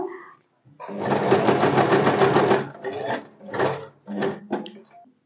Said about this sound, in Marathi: पॉइंटला सुई बरोबर खाली ठेवायची त्यानंतर फुटर उचलायचा कापड टर्न करायचं आणि पुन्हा आहे त्या वरून शिवायला सुरुवात करायची